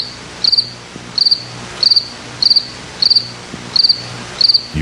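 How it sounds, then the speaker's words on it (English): Crickets chirp in short, evenly spaced bursts, about seven pulses in a steady rhythm, loud and close with a faint hum underneath. "Crickets."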